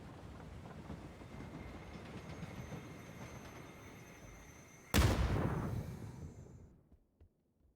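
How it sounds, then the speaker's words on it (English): A train pulls into a station on the Vikendi map in PUBG, a steady rolling rumble with rail clatter that swells into a sudden loud burst of noise, then fades out to near silence. "The train is pulling into the train station."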